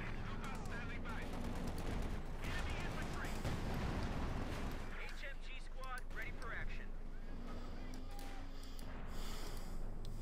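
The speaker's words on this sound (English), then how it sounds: "Need to retreat those rifles or they get annihilated by the Grenadiers there with the light machine gun" Light machine gun fire from German Grenadiers in Company of Heroes 2, bursts rattling steadily through a dense battle mix under continuous commentary.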